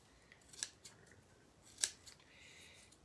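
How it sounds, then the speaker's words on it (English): Two crisp snips of scissors trimming fabric behind lace, close and isolated with a quiet pause between, plus a few fainter cuts in a hushed room. "I trimmed all the fabric on the other side"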